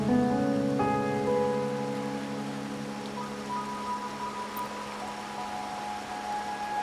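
Soft, steady rain patters in the video game Wuthering Waves during a rainy night scene, a gentle even hiss beneath fading musical tones.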